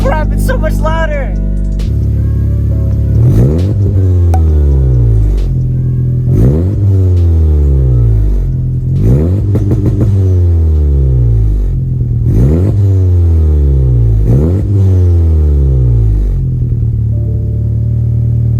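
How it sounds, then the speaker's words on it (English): A 10th-generation Honda Civic Si engine with a catless downpipe and front pipe revs hard and loud again and again, each sweep climbing then dropping back to a deep, rumbling idle, with a raw, aggressive tone. "we're gonna go ahead and fire up the car right now."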